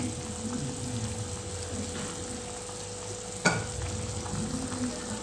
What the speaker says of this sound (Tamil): இப்போ உப்பு சேர்த்துட்டா ஒரு 5 நிமிஷம் போல் கொதிக்கட்டும்